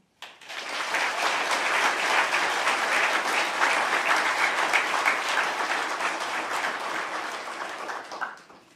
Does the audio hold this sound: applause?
yes